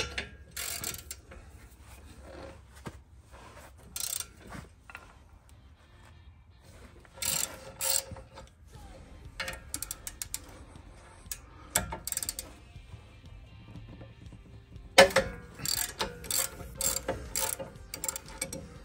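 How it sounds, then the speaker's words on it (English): A ratchet wrench backs out the two rear bolts of a brake caliper carrier on a Dodge car with seized calipers, giving bursts of rapid clicking with pauses, close and moderately loud, with occasional metal clinks. "there are just two bolts here in the back that we're going to go ahead and remove"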